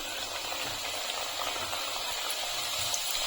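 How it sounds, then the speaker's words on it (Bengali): Chips drop into hot oil in a kadai, and a continuous broad hiss of frying holds steady throughout with no talk. "কড়াইতে তেল গরম করতে বসিয়েছি। আমি এখন চিপসগুলো ছেড়ে দিচ্ছি।"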